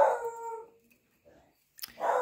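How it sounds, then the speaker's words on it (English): A beagle lets out a howl that trails off, then after a short quiet gap gives a second, louder bay, close by with no talking. "that is my dog announcing herself to the universe"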